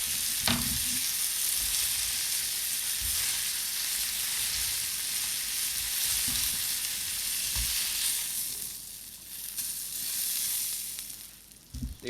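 A steak sizzles steadily in a hot pan after being flipped, a continuous loud frying hiss with a few soft clinks and scrapes of utensils, no talking.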